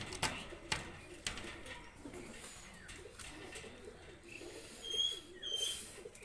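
Low cooing of pigeons, a Jonshira Teddy pair, drifts softly through a quiet loft, with a few faint clicks and rustles and one brief chirp near the end.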